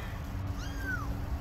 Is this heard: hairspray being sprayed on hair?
no